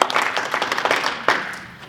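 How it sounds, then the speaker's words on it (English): Audience applause at an arts presentation, a room of hands clapping in a dense patter that carries on with a fresh burst partway through and slowly thins toward the end. "Let's give him another round of applause"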